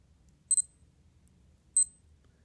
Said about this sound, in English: Got very nice sharp beeps